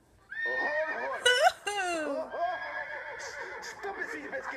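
In a comedy setting, a horse gives a long, loud whinny with a sharp, high squeal partway through and wavering tones that trail off into softer snorts, close to the listener.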